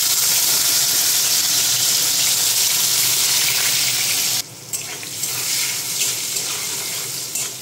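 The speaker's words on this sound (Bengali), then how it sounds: "আর এখন আমি উচ্ছেগুলোও ভেজে নেব।" Bitter gourd fries in hot oil in a wok, giving a loud, close, continuous sizzle and crackle. The sound briefly drops away partway through, then resumes at nearly full strength. No one speaks.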